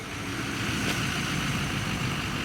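A Power Stroke diesel truck idles in front of a house, a steady low engine rumble and broadband hum holding at a constant level with no talking.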